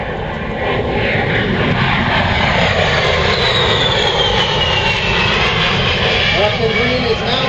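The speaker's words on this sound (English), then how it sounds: "Captain Green is now positioning the A-10 for a pass down the runway" An A-10 Thunderbolt II jet roars loudly and continuously as it positions for a runway pass at an air show, with an announcer talking over the engine noise.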